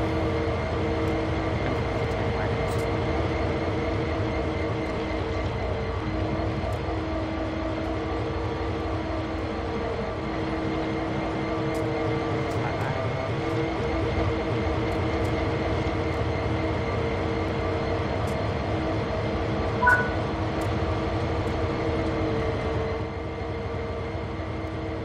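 A train rolls steadily in the railway simulator Train Sim World 3 during chemical switching work, its low, continuous rumble and drone running unbroken for the whole stretch with no talk over it.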